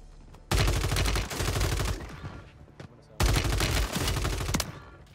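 Gunfire from an enemy team in the video game Warzone: two loud, close bursts of rapid automatic fire, each lasting over a second, with quieter stray shots between them.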